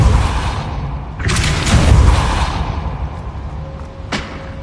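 A Depulso spell is cast in Hogwarts Legacy: a loud, booming whoosh and thud that swells and fades over a couple of seconds, followed by a brief sharp crack, with no talk.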